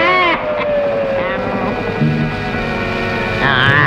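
A boat engine runs in a Telugu film scene, a loud steady rumble with wind-like rushing, while voices and tonal sounds sit on top.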